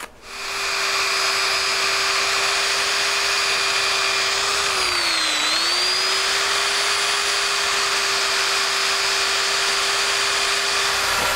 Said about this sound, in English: take my power sandrel with a Velcro sanding pad on here and clean things up